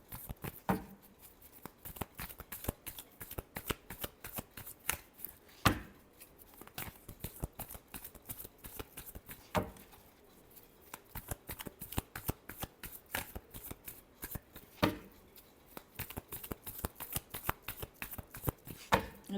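Tarot cards are shuffled by hand in repeated quick riffles and slaps, crisp and close, with short pauses between bursts across the whole stretch and no talking.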